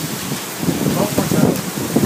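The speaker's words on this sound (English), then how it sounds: "How is this rain so cold?" Strong, cold rain pours down in a steady broadband hiss with soft uneven surges.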